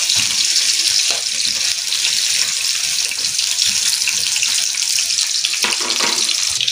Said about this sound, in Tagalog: Natin muna itong iprito ng ating patatas.